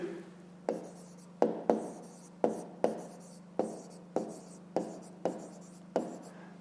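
A pen or pencil writes by hand during a fifth-grade maths exercise, about a dozen sharp strokes and taps in an irregular rhythm, each with a short scratchy tail, close and fairly quiet.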